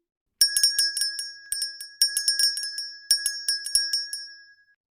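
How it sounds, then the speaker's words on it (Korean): A bright, high-pitched bell rings in quick clustered strikes, three rapid bursts of tinkling chimes with a clear ringing tone and no voices. "그런데 그때 갑자기 종소리가 들리는 게 아니겠어요?"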